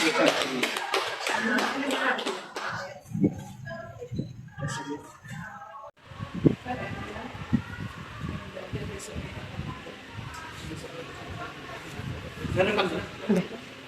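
Teachers in a school audience clap their hands together in a burst of applause, which starts over speech and then fades into mixed talk and scattered claps from the room.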